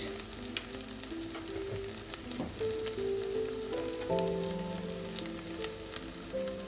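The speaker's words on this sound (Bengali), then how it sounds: "টমেটো দিয়ে একটু নেড়ে নেব" Tomato and spices for a traditional Bengali prawn fritter curry fry in a pan, a steady soft sizzle broken by scraping stirs and a few tonal clinks against the pan, close and even, with no one talking.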